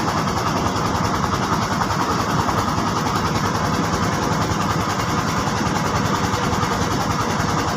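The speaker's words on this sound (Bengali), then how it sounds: "ওই যে একটা দেখেন, একটা ট্রলার আসতেছে।" A trawler boat's engine on a river in the Sundarbans, Bangladesh, a continuous low rumbling drone that stays fairly loud and even throughout, with no speech.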